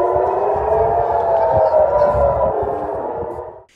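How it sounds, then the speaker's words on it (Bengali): An air raid siren sounds across Israel during an Iranian missile attack, a loud, sustained wailing tone that holds steady and then fades at the end. "এ সময় পুরো ইসরায়েল জুড়ে শোনা যায় সাইরেনের শব্দ।"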